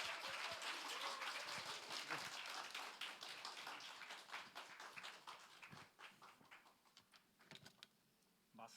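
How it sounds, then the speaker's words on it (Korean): Applause from a church congregation welcoming a missionary to the front, dense and sustained at first, then thinning into scattered claps toward the end. "큰 박수로 우리 맞이하시겠습니다"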